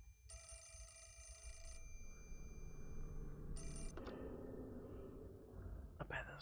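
Telephone ringing in the horror game Fatal Frame: Mask of the Lunar Eclipse, an old-style bell ring heard in two bursts, a long ring then a short one, fairly faint under a low ambient drone.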